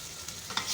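Yogurt being stirred into masala in a pan for Lahori beef paya (beef trotters), a brief soft scrape and gentle sizzle with a couple of small clinks, close and fairly quiet.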